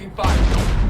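Anti-aircraft gun fire in the video game Mass Effect 3, a sudden heavy barrage that kicks in after a brief quiet moment and rumbles on continuously, loud and close.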